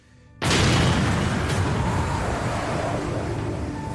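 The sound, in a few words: large explosion of a delayed-action bomb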